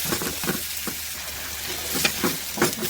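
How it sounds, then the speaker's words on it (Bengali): Prawns sizzle in a hot frying pan, a steady close crackle of oil broken by occasional sharper pops and stirring scrapes. "চিংড়ি মাছগুলো ভাজা হয়ে আসছে"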